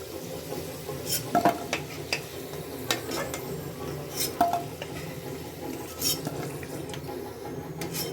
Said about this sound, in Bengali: আলুগুলো ভাজা হয়ে গেছে, এবার এগুলোকে উঠিয়ে রেখে দেবো